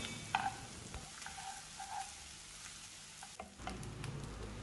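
Onions sautéing in a pan for chicken lasagna, giving a soft, steady sizzle close by with a few brief stirring scrapes and no talk.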